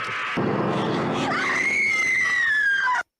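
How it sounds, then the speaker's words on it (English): A loud, sustained scream from an old slasher movie rises into a long piercing wail before stopping abruptly, with no talking over it. "That is a good ass scream."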